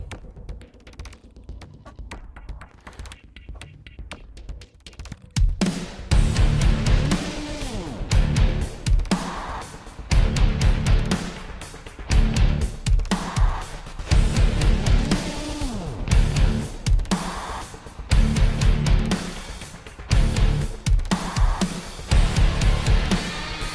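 A sparse tapping intro bursts into a loud, dense rock instrumental with pounding drums and heavy distorted guitars driving steadily throughout.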